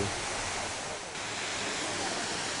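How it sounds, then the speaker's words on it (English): Gravity-fed palace fountains in Russia pour and splash as a steady, broad rush of water, loud and continuous, with no break in the flow. "all these fountains are gravity fed"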